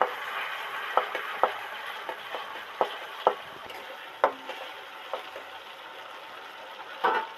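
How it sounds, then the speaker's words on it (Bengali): Ginger-garlic paste fries in a pan over already browned onions and tomatoes for a mutton curry, with a soft steady sizzle broken by sharp clicks and taps of a spoon stirring against the pan. "এবার এর মধ্যে আদা রসুনের পেস্টটা দিয়ে দেব।"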